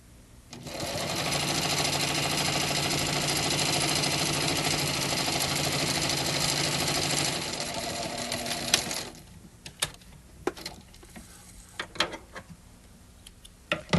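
A sewing machine runs in one steady, loud stretch of stitching for about eight seconds while a garment's back shoulder is sewn, then stops, leaving scattered clicks and handling noises.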